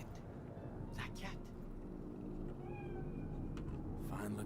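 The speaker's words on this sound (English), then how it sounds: "Do you see it? That cat?" A cat meows in a Cyberpunk 2077 city scene, several short rising calls over steady game ambience and a low background hum, with a soft voice speaking around them.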